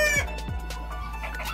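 Chickens, including small ornamental ones, clucking close by on a rural farm in short, uneven bursts, with a faint steady hum underneath.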